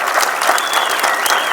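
Audience applause at a housing sale launch event in an auditorium, a dense, loud burst of many hands clapping steadily throughout, with a faint voice underneath.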